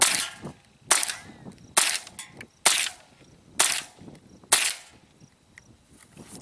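A Mossberg 702 rifle fires six sharp, close shots in a fairly rapid sequence, each crack followed by a short ringing tail, with brief quiet gaps between shots.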